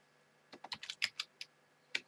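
Quiet computer keyboard typing while a world seed is entered for a game server: about ten crisp key clicks in a quick irregular burst, then a pause and one final tap, with no voices.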